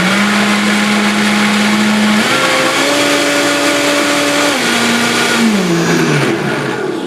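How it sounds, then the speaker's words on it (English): Blender whirring through a batch of coconut yogurt, a loud steady motor drone that shifts pitch upward as it speeds up, then drops and winds down near the end, with no talking. "and then you can blend it again"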